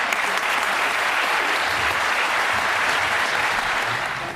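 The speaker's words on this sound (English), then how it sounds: "So please give all of yourselves a round of applause." Sustained applause from a large crowd at a voters' town hall meeting, a steady dense wash of clapping that holds loud throughout and begins to taper at the very end.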